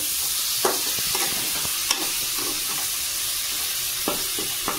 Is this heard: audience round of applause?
no